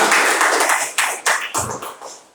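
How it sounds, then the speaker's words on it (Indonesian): Several people clap together at a formal ceremony, a short burst of sharp applause that builds, then breaks into a few scattered, fading claps. "Tepuk tangan dulu yang mulia."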